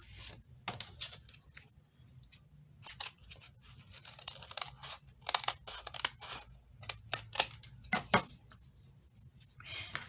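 Paper booklet pages being trimmed down with scissors, a run of sharp, crisp snips and rustles at close range, irregular in rhythm, with no talking.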